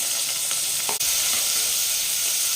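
Onions and green chillies sizzle steadily in hot oil, a dense continuous frying hiss with one brief scrape of stirring.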